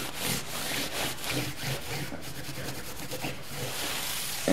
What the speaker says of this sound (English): And get in there with our fret erasers.